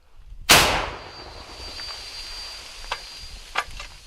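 A single loud, sharp L119 howitzer blast cracks out, then rolls away in a long fading rumble, followed by a couple of faint distant thuds.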